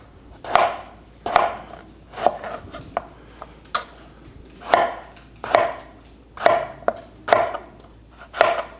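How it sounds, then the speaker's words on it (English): A knife slices a peeled eggplant into thin half-inch pieces on a board, about ten distinct crisp cuts in a fairly even rhythm, close and clear with no speech. "So let's go ahead and cut it into thin pieces."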